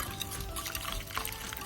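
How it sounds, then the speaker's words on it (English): Water pours into a bowl of seasoned pizza-dough mixture for a meat and veggie pizza, a short, close, continuous liquid trickle and splash. "So I'm just going to add the water,"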